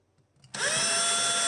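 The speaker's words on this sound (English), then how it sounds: "I want to drill right here now, right in that fret slot" After a brief quiet moment, an electric drill spins up sharply and holds a loud, steady high-pitched whine as it bores into a maple guitar neck at a fret slot.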